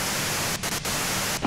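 Steady hiss of radio static in Disco Elysium, loud and continuous, briefly dipping in short gaps before resuming.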